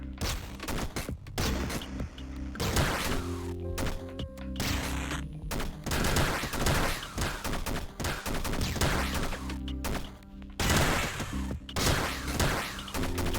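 Rapid gunfire from the video game Downwell plays in dense, repeated bursts of punchy shots and booms over game music, loud and continuous with brief pauses.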